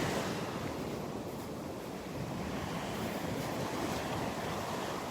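Steady surf breaking on the beach at Delnor-Wiggins on a foggy morning, a continuous broad wash of waves with some wind rumble on the microphone, no voices.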